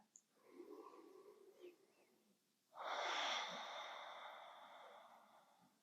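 Slow, smooth breathing during a yoga flow: faint, soft breath sounds at first, then a long, steady, airy exhale that fades gradually, close and alone.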